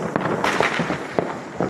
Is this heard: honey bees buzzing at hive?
no